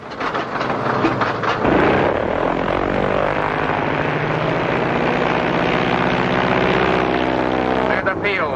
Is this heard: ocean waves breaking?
no